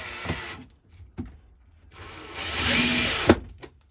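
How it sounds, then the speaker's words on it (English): A power drill drives screws into salvaged wood for a boat galley: short clicks and knocks, then a sustained whirring burst of about a second and a half ending in a sharp thud, with quiet pauses between. "So I'm gonna put 3 screws, one here, here, and here"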